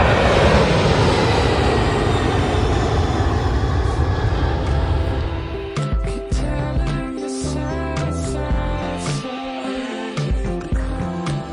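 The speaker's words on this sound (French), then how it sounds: "de temps en temps il y a un avion qui décolle au-dessus de nous" Fixed-wing airplane taking off overhead near Anchorage airport in Alaska, a loud, sustained engine roar with broadband rumble that swells and shifts in tone as it passes, no talk over it.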